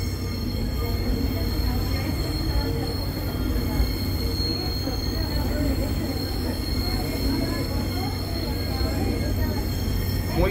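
The Tren de las Sierras passenger train runs through the Córdoba hills near Valle Hermoso, its wheels squealing persistently on the rails over a constant loud rumble heard from inside the carriage.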